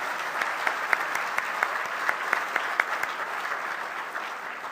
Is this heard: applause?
yes